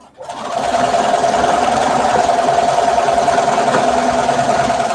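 A sewing machine stitches a narrow seam on a T-shirt, starting after a brief pause and then running in a fast, steady mechanical whir with a constant hum, close and loud.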